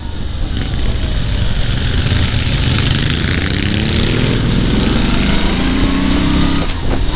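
A Moto Guzzi V7 Stornello engine drones loud and steady while riding on an open road, with a constant rumble and wind roar that holds without a break.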